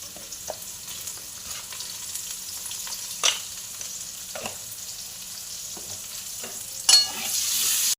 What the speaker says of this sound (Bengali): আলুটা আমার ভাজা হয়ে গেছে,